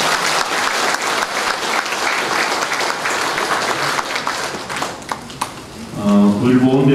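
Loud, energetic applause from the audience at the 49th Busan Ilbo veterans' awards ceremony, continuous clapping that thins toward the end, where a voice begins to speak.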